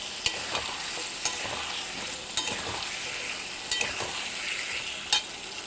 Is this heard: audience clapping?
no